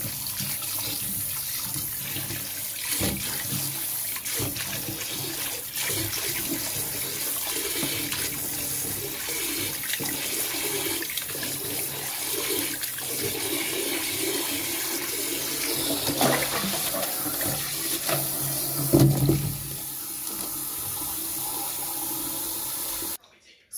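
Tap water runs steadily into a sink as arrowroot is rinsed under it to wash off the white starch, a constant hiss with occasional splashes and handling noises, stopping abruptly near the end.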